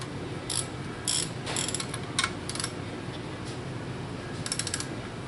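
Wrench ratcheting on cylinder head bolts of a 2007 Mini Cooper S R56 engine, several brief clicking bursts spaced across the clip over a steady background hiss, close but modest in level.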